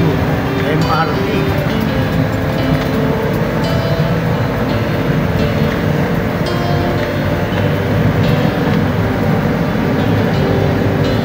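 An MRT train passes along EDSA near an underpass, a loud, continuous close rumble and roar that holds steady throughout, with city traffic noise mixed in.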